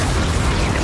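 A Confringo spell explosion in the video game Hogwarts Legacy, a short, dense, loud burst of broadband rumble with no separate onset, filling the whole moment.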